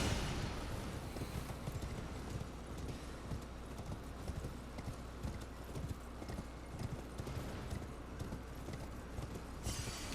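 A summoned horse in the video game Elden Ring, hooves clip-clopping in a steady, fairly loud gallop under constant game noise, with no clear speech.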